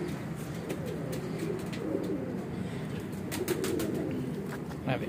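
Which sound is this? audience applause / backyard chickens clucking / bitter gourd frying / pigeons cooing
pigeons cooing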